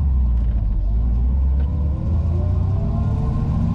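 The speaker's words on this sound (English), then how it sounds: "62 Corvette, fuel injected 327, T10 4-speed, 370 positraction, Honduras Maroon with a black interior." A 1962 Chevrolet Corvette with a fuel-injected 327 V8, T10 four-speed and 370 positraction rear end idles and rumbles from inside during a drive, a steady deep engine drone with no talk.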